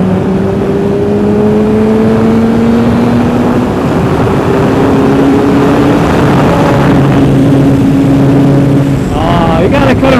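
Harley-Davidson and Suzuki GSX-R motorcycles racing side by side, engine tones rising steadily through the gears, loud and close under wind noise, with brief voices near the end.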